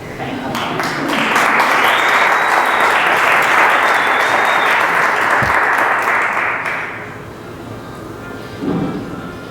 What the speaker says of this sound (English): I may not get an applause, but thank you